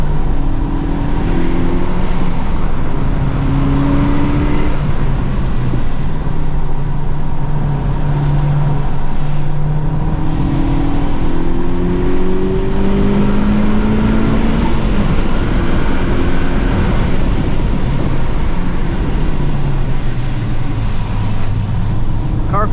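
A 2023 FL5 Honda Civic Type R drives on a wet, flooded race track. Its engine drones loud and steady throughout, with rising and falling revs as it shifts, and road and water noise from all-season tires underneath.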